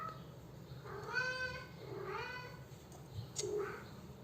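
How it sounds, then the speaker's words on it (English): A cat meows three times indoors, two drawn-out cries followed by a shorter one, faint against a quiet room hum and with no speech. "I think my cat's over here. He's having a little bit of a problem."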